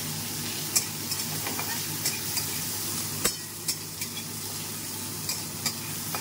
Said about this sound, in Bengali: এবার পেঁয়াজটা ভেজে নেব।